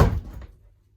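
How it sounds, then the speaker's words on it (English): A door is shut inside a house, giving one dull, close thud that dies away quickly into quiet, with no voices. "And finally, shut that door."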